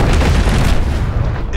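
Tomahawk missile impact in a combat film, a heavy low boom rolling loud and continuous for over a second before cutting off.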